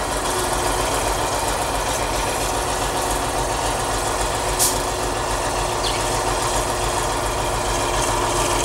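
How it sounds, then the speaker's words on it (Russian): An engine on an HTZ T-150K tractor runs rough and misfires, a loud, continuous idle with a low, uneven throb and shaking vibration, heard up close with no one talking. "Ну, что-то у меня он троит, мотор как трясется."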